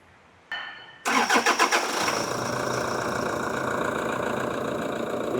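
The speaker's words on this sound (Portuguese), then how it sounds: "Funciona o carro lá?" A car engine cranks in a quick run of rhythmic bursts, then catches and settles into a steady idle, close by in a mechanic's workshop after the old oil has been drained from the steering box.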